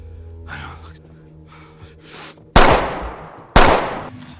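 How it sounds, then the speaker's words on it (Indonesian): Two loud, sharp gunshots from a film crack out a second apart after quieter breathing, gasps and muffled struggle, each blast followed by a brief ringing decay. "Karena Gasper akan menyerang Opie, dia pun refleks dan menembaknya, yang membuatnya terkapar"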